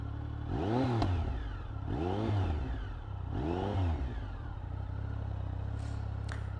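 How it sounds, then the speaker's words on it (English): A Triumph Speed Triple motorcycle engine revved three times in a row, each blip rising and falling smoothly from a throaty idle, close and loud, then settling back to a steady idle. "It's still a really nice throaty sound. You know, it sounds as if it means business."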